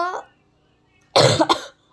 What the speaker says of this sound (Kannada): ಇನ್ನೂ ಕೆಮ್ಮಿದೆ ನನಗೆ